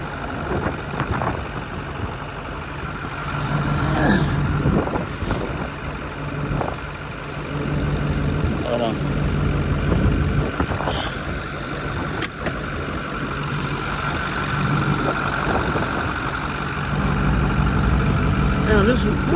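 A Ford Power Stroke Super Duty diesel truck engine idles with a steady low rumble and clatter throughout, close by, while people talk over it.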